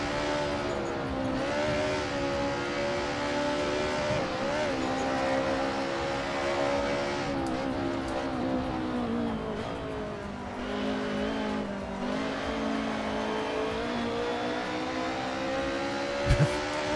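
Race car in a sim racing game sliding through a drift on track, sustained engine drone with shifting pitch and faint tire squeal, loud and steady throughout, no talk.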